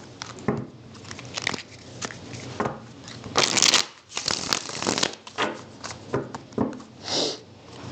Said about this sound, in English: I did just shuffle, but I feel like I need to shuffle again